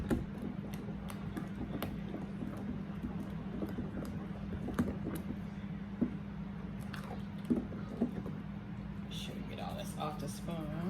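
Spoon stirring raw large eggs with broken yolks into Southern cornbread batter in a bowl, a soft wet squishing and light tapping that repeats steadily and close, with a low steady hum underneath and a person talking throughout.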